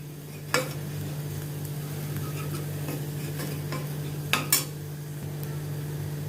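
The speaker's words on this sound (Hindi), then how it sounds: "इनको अभी मैं अनियन के साथ थोड़ा सौते करती हूँ जैसे इनका कच्चापन निकल जाए" Cumin powder and red chili powder sautéed with onion in a pan for egg curry, with a soft sizzle under a steady hum and a few sharp utensil scrapes and clinks.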